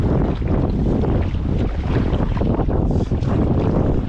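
Strong sea wind buffets a microphone during a solo stand-up paddleboard trip near the shore, a steady loud roar with gusty low rumbling and water splashing beneath, and no one speaking.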